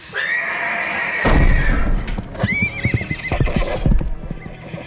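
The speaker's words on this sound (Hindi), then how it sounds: "उसके बाद हमारे सारे घोड़े भाग गए।" Horses whinny loudly in two drawn-out neighs from a stable as hooves thud and clatter in quick, uneven beats, close at first and continuing as the animals bolt away.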